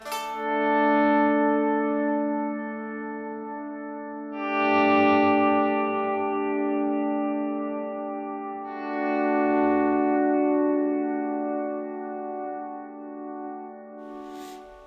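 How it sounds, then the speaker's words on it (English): Electric guitar volume swells played as a sustained pad through delay with no reverb, three slow-rising chords that bloom and overlap with faint echo tails, alone and steady. "play just a volume swell, like we would play this as if it were a pad, but leave the reverb off so you can just hear what the delay is doing"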